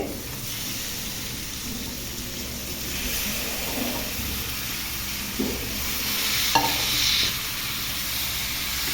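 Freshly washed chicken pieces sizzling in a pan while being stirred, a continuous hissing fry with occasional scrapes and knocks of the spoon, moderately loud with no one speaking.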